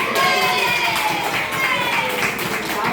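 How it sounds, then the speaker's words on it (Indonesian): A classroom of children claps for a group's correct answer, a brief burst of scattered hand claps mixed with kids' chatter and an adult voice. "Tepuk tangan untuk kelas."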